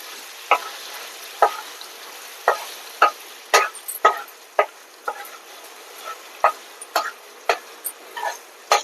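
Raw mango pickle mixture frying in a pan, giving off a steady faint sizzle broken by frequent sharp crackles and pops that come every half second or so, close and fairly quiet.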